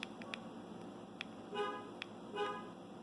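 A 2005 Mazda RX-8 GT's alarm answers its key fob from a garage, heard from inside the house: faint, distant clicks followed by two short electronic chirps about a second apart.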